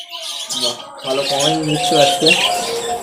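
Lutino cockatiels and other caged birds at a bird sale chirping and squawking in quick overlapping calls, close and loud, with someone talking over them.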